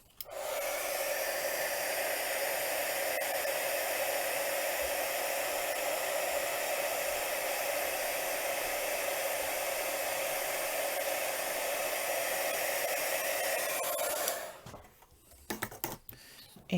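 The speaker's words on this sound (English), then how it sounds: "Let's grab my heat tool." A handheld heat tool blows hot air to set white embossing powder on a card, a loud steady whooshing hiss running unbroken for about fourteen seconds before cutting off abruptly, followed by a few faint clicks.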